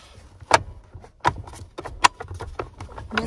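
An infant car seat snaps into place inside a car with a few close, sharp clicks and knocks spaced over a few seconds, with faint handling rustle between them.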